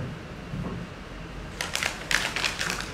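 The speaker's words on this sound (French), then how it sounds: "Je la froisse." A sheet of paper is crumpled by hand after a quiet stretch, giving a run of close, crisp crackling bursts that fade into silence, with no speech over them.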